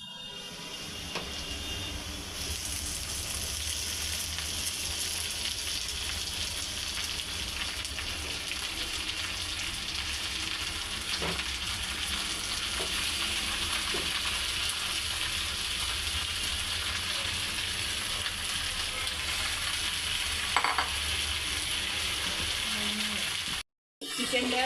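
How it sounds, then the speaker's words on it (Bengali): Marinated chicken pieces frying in a pan with already-fried onions, a steady broadband sizzle running for the whole stretch with occasional small pops and stirring clicks, close and fairly loud, with no one talking. "এবার আমি ম্যারিনেট করা চিকেনগুলো এতে অ্যাড করছি।"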